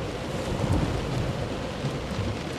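Heavy rain and rolling thunder of a sea storm in the video game Close to the Sun, a dense, steady roar throughout with deep low rumbles, loud and close, with no voices over it.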